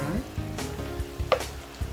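Sliced bitter melon sizzles and fries in a hot pan while being stirred, with soft scraping strokes over a steady crackle. The sound is close and fairly quiet, with no talk.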